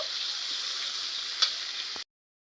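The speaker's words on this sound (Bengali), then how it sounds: "গোটা রসুন মাছের সঙ্গে ভেজে নেব" Whole garlic cloves frying alongside fish in a pan of oil, a loud, even, close hiss with one small tap partway through before it cuts off abruptly.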